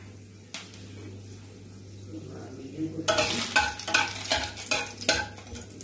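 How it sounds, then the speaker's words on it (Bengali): Fenugreek seeds hit three tablespoons of hot mustard oil in a kadai: after a quiet stretch, a sharp burst of sizzling erupts with rapid crackles and pops close by. "তেলে আমি মেথি সম্বার দিয়ে দিলাম।"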